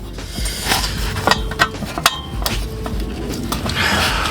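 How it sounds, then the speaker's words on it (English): A metal clamp being fitted onto the aftermarket catback exhaust of an Acura RDX turbo, close metallic clinks, taps and scrapes in an irregular handful of sharp hits over steady background noise. "Let's get this clamp on."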